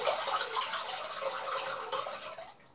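Running water rinses the blade of a Parker SoloEdge razor, a close, steady splashing hiss that tapers off at the end.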